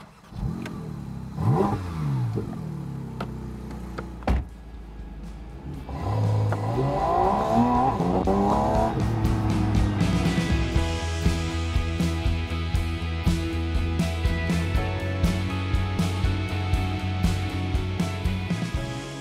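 A Porsche 718 Spyder RS with a naturally aspirated 4.0-litre boxer engine from the 911 GT3 accelerates hard on a test drive, a loud close rising howl with gear changes that climbs into a sustained high wail.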